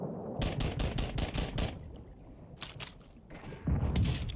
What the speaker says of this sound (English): he hit me with a fucking RPG